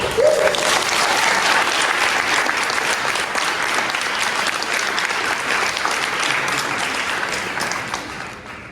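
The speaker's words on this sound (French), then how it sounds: "Mesdames et messieurs, je vous demande d'applaudir Ambrine Chielli" Loud, dense applause from an audience at the Prix Veil 2025 eloquence final as a juror is introduced, a sustained roar of clapping that gradually thins toward the end.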